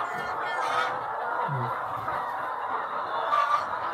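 Hens in a laying house in Yaoundé keep up a faint, steady chorus of clucks and honking calls, with occasional louder squawks standing out from the flock.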